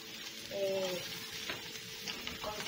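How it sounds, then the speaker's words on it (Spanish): Enchiladas potosinas sizzling steadily in a pan, close and continuous with stirring scrapes, a constant frying hiss throughout. "Dejamos a que estas concentren todos sus sabores y comiencen a freír"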